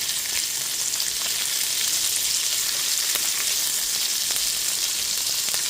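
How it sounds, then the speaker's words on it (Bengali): Loud, continuous sizzling of capsicum and onion frying hard in a hot pan on high flame for gravy chilli chicken, with faint scrapes of stirring. "ক্যাপসিকাম আর পেঁয়াজটা একটু ভাজা ভাজা হয়ে যেতেই"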